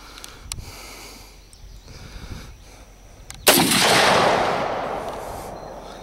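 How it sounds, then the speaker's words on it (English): A single sharp rifle shot from a Ruger SR556 cracks loudly and close, followed by a long decaying roar, after a few seconds of quiet outdoor background. "You hit it on the first shot."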